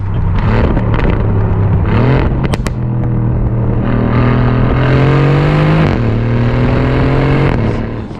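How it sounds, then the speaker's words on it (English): An Aston Martin Vantage engine revs hard and loud, its pitch climbing and falling through shifts, with crackling pops over a constant raucous drone; no voices. "you can create cracks and pops on upshift and downshift, and it is properly raucous."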